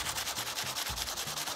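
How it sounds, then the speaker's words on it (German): Sandpaper is rubbed by hand across an e-MTB brake disc in quick, even back-and-forth strokes, a close, rasping scrape repeating steadily with no voices. "Wir schleifen erstens sowieso."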